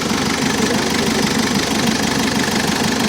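Mitsubishi Strada pickup's 4M41 diesel engine idling with a low-power fault, a steady loud knocking rumble running continuously and close by, with no talk over it.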